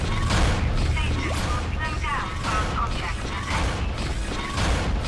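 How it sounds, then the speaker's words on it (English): Malfunctioning door mechanism in the sci-fi horror game Dead Space, grinding and creaking with rhythmic mechanical clanks and strained whirring, loud and continuous over a dense, rumbling ship ambience. "Looks like that door is malfunctioning, Isaac."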